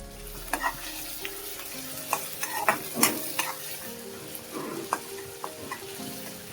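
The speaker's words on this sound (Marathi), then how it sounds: "आपण ठेचून घेतलेली हिरवी मिरची घालणार आहोत। तिलाही आपल्याला परतून घ्यायचं आहे।" Crushed green chillies sautéing in a pan for matki bhaji, a steady low sizzle under repeated stirring taps and scrapes of a spoon against the metal, close and moderately loud.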